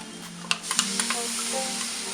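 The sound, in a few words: ground spice paste sautéing with onions in a pan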